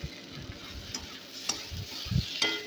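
Ginger garlic paste stirred into potatoes frying in a pan, a soft continuous sizzle broken by a few scraping stirs of the spoon, close and fairly quiet.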